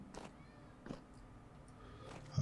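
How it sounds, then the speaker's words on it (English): A small cat meows faintly from outside a closed door, with a few short, muffled cries spread across a quiet room tone, distant and soft with no talking. "I've got a small cat whinging out outside my door"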